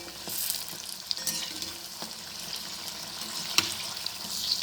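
Bonda dumplings frying in hot oil while being turned, a steady close sizzle and bubbling with a few sharp scraping clicks from the spoon, no voices.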